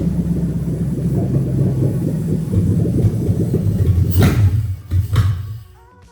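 A Toyota 1UZ-FE VVT-i V8 idles with a deep, steady rumble, then stumbles and sputters as it runs out of fuel, surging briefly before dying away to silence.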